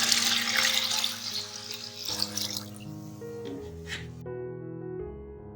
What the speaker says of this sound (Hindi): तो चले अब हम इसमें पानी डालते हैं